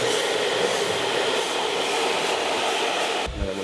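A hair dryer runs at medium speed on high heat, a steady close whooshing roar used with a round brush during a blow-dry, cutting off abruptly near the end.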